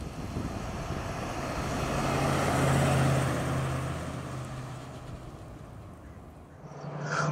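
A 1986 Ford Bronco XLT engine idles steadily at close range, a low continuous rumble with a faint hum that swells slightly midway and again at the end, with no one talking.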